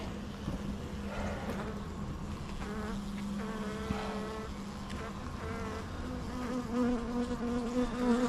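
Dense, steady buzzing of many honeybees around an open beehive during an autumn hive inspection, close and continuous with a low hum beneath, swelling slightly toward the end.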